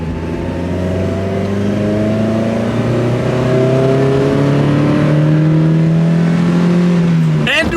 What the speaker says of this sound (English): And we're off in the Miata.